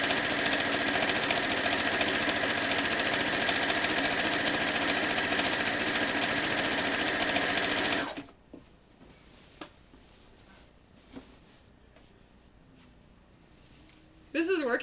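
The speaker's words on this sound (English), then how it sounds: "start quilting about 1/4 inch from the end, and sew through" Sewing machine stitching through quilt layers near the fabric edge, a loud steady mechanical whir that runs continuously then stops abruptly, followed by faint handling clicks before it briefly starts again.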